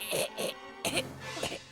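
Two quick dry coughs, a short pause, then two more harsh coughs, close and alone.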